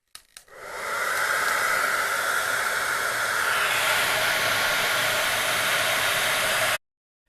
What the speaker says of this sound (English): Then we get a hairdryer and